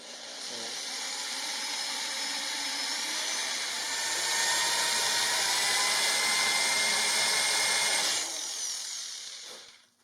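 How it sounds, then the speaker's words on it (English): A power drill whines loudly and steadily for several seconds, its pitch shifting slightly as it bores through wood, then winds down and stops. "Okay, I need to drill 5 holes here."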